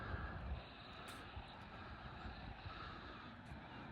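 An E-flite ElectroStreak RC airplane fitted with a new 810 prop flies past as a steady, moderately distant electric buzz and whine that holds fairly constant throughout, with no talking.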